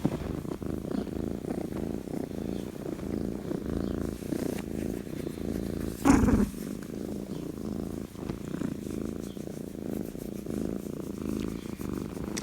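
A cat purrs close by in a steady, continuous low rumble lasting the whole stretch, with a brief louder bump of movement partway through.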